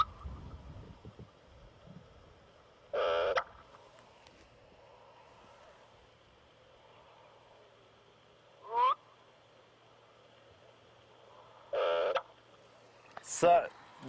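Black-bellied bustard calling in the Kruger bush of South Africa, giving a few short, abrupt popping bursts spread across a quiet background with faint hum.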